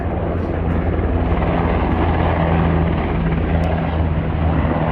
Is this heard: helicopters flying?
yes